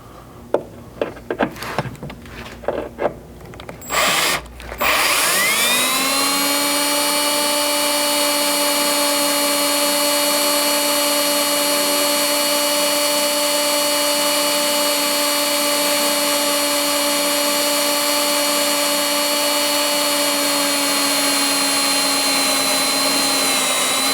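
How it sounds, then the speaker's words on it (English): A power drill with a carbide bit cuts a hole during a vehicle evap skid and slider install. After a few brief starts, it settles into a loud, steady, high whine that holds unbroken for about twenty seconds. "we'll now try and get this hole drilled"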